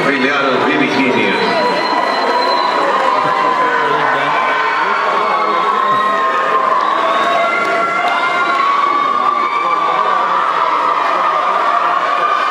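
A crowd at a 2014 Saya folkloric dance event in Virginia cheers for a caporales dance fraternity: loud, sustained shouting and whooping from many voices, close and dense, with no pause across the span.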